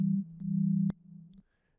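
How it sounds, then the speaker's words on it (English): Low synth sine-wave tone made in Serum, pitched an octave lower: a pure steady hum lasting about a second with a faint click, then a quieter tail that cuts off into silence. "Also sine waves here in this sound."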